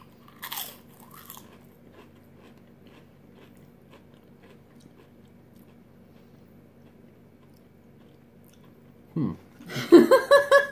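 Classic potato chips crunch in a quick burst of close, crisp bites near the end, following a long quiet stretch with a brief rustle at the start.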